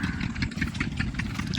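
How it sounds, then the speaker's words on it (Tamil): An engine runs steadily at a construction site near Bhavanisagar dam, a moderate mechanical chugging with light clatter that continues unbroken for the short stretch, heard from a middle distance. "சுற்றியுமே இன்ஜின் ஓடிட்டுருக்கு."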